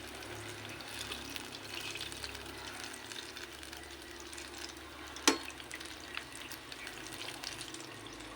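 Banana cue frying in too much cooking oil, a steady soft sizzle and bubbling that runs evenly throughout with one brief sharp click midway.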